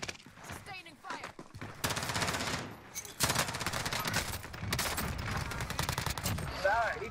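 Rapid automatic gunfire in the Call of Duty Warzone Caldera battle royale, sustained bursts of close, loud shots rattling for several seconds with short breaks, mixed with game sound effects.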